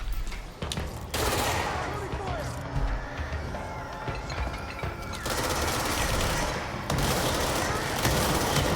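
Rapid gunfire from the shooter video game Control, with bursts of automatic fire and heavy booms crashing in loud, dense waves, dropping briefly between volleys before surging again.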